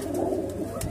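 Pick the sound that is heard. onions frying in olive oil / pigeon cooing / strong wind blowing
pigeon cooing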